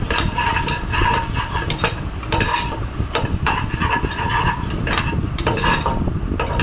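Mutton paya frying in a pan as a spoon keeps stirring it, giving continuous scraping and rubbing strokes in an uneven rhythm over a soft sizzle, close and fairly loud, with no talking.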